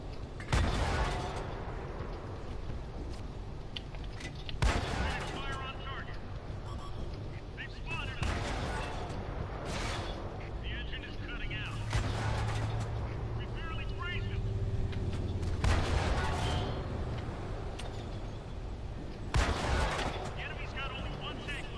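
Booming cannon and gunfire shots go off at irregular intervals in a tank battle video game, set against a constant low engine rumble, with someone talking over the action.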